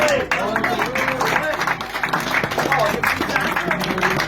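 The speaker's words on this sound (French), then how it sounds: "Je pense qu'on peut l'applaudir." Gathered activists at a festive event applaud Corinne, a sustained round of clapping with cheerful voices and chatter running through it.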